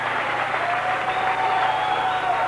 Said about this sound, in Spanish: el gran aplauso tiene que ser para ustedes